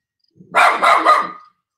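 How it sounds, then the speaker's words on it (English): A dog lets out a quick run of three loud barks close by, strung together in about one second, with silence before and after. "There he is, the killer dog, Yoshi."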